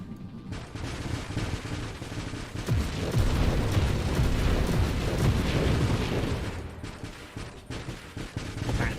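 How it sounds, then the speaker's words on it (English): Dense, continuous bursts of explosions and gunfire-like blasts fill a space shooter battle in Nova Drift at wave 210, loud and relentless, swelling in the middle with no talking. "Tactical explosions."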